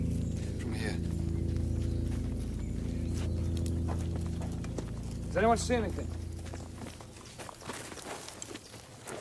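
Hooves of three or four horses carrying riders approach with a soft clip-clop rhythm as a group draws nearer, heard under people talking.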